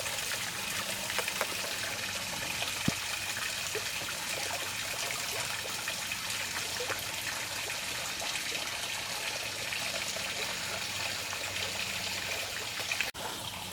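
Water flows steadily in an outdoor stream, a continuous broadband trickle and gurgle that stays close and even throughout, with one brief click partway through.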